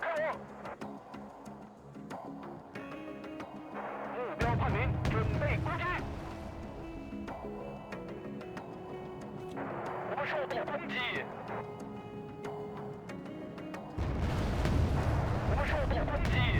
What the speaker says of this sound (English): That was a bad bomb.